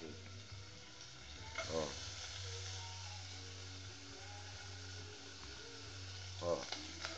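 Fatty cupim beef fries in hot fat with a steady, close sizzle and crackle, its loudness rising and falling in short spurts while a voice briefly speaks.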